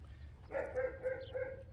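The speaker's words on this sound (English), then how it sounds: "Fidgety little puppy" A puppy in training gives a few short, high whimpering yips in a quick series, close and fairly quiet over a low background rumble.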